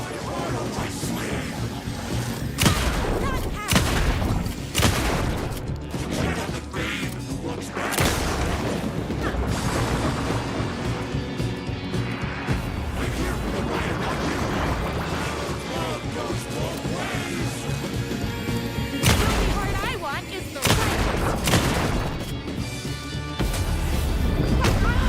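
Explosive cards fired by an enemy in Alan Wake II, bursting in a dense, loud run of booms and crashes under a constant game soundtrack, with a few sharper blasts standing out.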